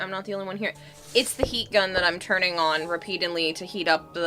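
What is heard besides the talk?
No distinct noise like a dog, phone or traffic.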